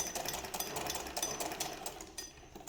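A sewing machine stitches a second seam along a sleeve up to the center point, giving off a close, steady mechanical chatter that rumbles on rhythmically without pause and without talk.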